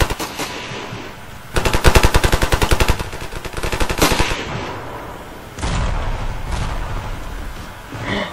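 Rapid automatic gunfire in the video game Ravenfield, loud and close, with a long sustained burst followed by shorter bursts and scattered shots, alone without voices.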